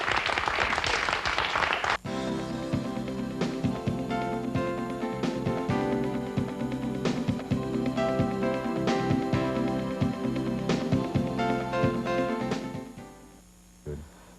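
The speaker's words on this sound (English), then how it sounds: "A round of applause for 3 people without whom we wouldn't have had a miracle" A magic show audience gives a loud, dense burst of applause for about two seconds. The clapping then cuts off, and steady music carries on until a faint fade at the end.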